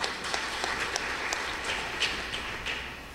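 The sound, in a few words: audience applause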